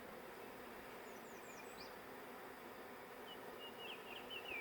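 A honey bee swarm settles into empty boxes, a dense continuous buzzing drone from many bees, faint and steady, with a few chirps from birds now and then in the background.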